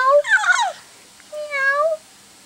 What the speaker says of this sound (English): Look, it's a kitty. That's a kitty.